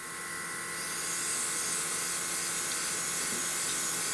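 A cheap Aldi airbrush kit sprays paint onto plastic with a continuous close hiss and faint compressor buzz that builds up and holds steady throughout.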